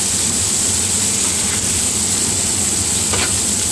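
Raisins and other ingredients for butter paneer fry in a pan, a steady soft sizzle with faint stirring, close and continuous with no talk.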